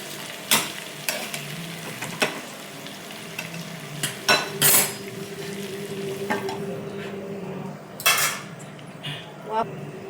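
A lid knocks and clatters onto a pan of okra cooking on the stove, several sharp metallic clanks over a soft continuous sizzle, with a faint steady hum underneath.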